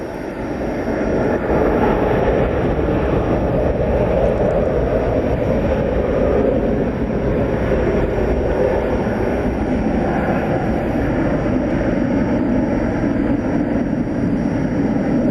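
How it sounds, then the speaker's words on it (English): An American Airlines Airbus A321 jet arrives at DFW Airport at night, arriving from LAX, with a loud, constant broadband engine roar that sustains evenly across the whole span and has no talk over it. "Arriving from LAX. It's an Airbus A321"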